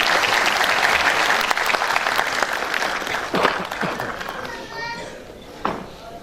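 Loud audience applause at the Gakhar Talent Award ceremony, dense clapping that gradually thins and fades, with a few scattered voices and a final lone clap near the end.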